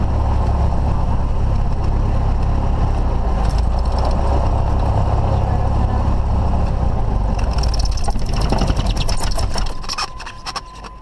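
Small airplane engine running at a loud steady rumble after landing, then sputtering and winding down into rapid fading pulses as it shuts off near the end.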